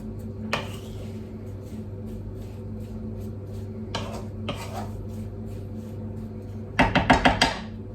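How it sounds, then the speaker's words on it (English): Garlic being stirred in a pan: a few isolated scrapes and taps of a utensil, then a quick run of bright metallic clinks near the end, close and alone with no talking. "So I'm just going to give that a stir."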